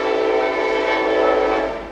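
A loud, sustained train horn blast sounds in a rich, multi-tone chord, holding steady for about two seconds before starting to fade at the end.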